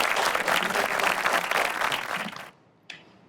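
A crowd applauding, dense steady clapping that carries on for a couple of seconds, then stops abruptly, followed by one faint sharp sound.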